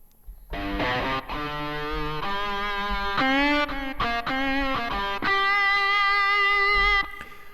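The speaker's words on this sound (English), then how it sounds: "Distortion guitar." A Kontakt virtual-instrument distorted electric guitar plays a series of sustained, gritty notes and chords, each held briefly before changing, loud and up front.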